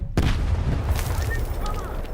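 A grenade in the video game Stalker 2 goes off in a sudden, loud, close boom, and a rumbling tail fades over about two seconds.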